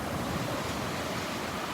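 Ocean surf breaking on the beach at Delnor-Wiggins, a loud, continuous close roar of churning water mixed with wind buffeting.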